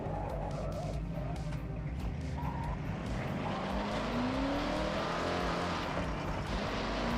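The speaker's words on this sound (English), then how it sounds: "That is why it sounds so freaking weird. It is a supercharger." Supercharged car engine in Forza Horizon 6 revving loud and steady throughout, with a rising whine sweeping upward and tire skid noise under the engine.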